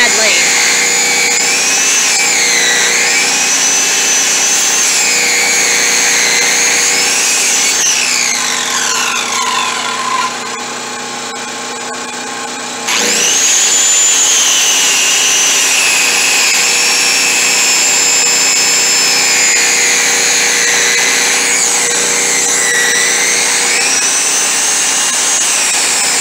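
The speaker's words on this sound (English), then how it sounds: "Back and forth with the circular saw" A circular saw cuts back and forth into a tree stump outdoors, its loud, sustained high whine changing pitch as the blade bogs and frees up, with a short pause midway before the cutting resumes.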